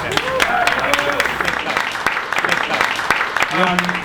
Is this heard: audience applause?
yes